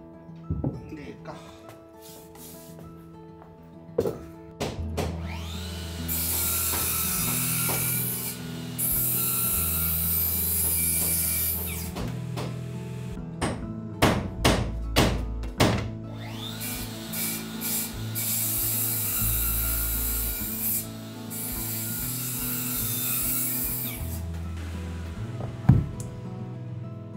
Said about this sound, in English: I make sure to cut each of the 13 treads precisely